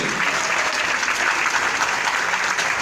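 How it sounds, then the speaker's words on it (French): Applause from an audience at a speaking event, a thick, even roar of many hands clapping without pause, loud and close, with no talk over it. "On applaudit s'il vous plaît."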